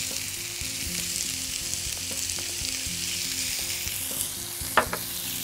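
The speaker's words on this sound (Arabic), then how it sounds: "طيب احنا شوحنا ده، هنحط معاه الثوم" Food sizzles in a hot pan, a bright, steady hiss broken by faint stirring clicks and a sharp clank near the end.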